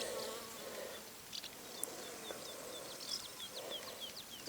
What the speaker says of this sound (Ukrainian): Бджола збирає нектар.